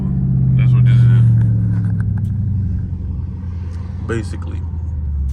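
A Dodge Charger Scat Pack in street mode drives with a deep, steady engine rumble and a swell of revs early on as soft downshifts come through, while someone talks briefly over it.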